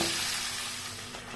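Steady hiss and crackle of spices frying in hot oil, close and continuous, with no voices.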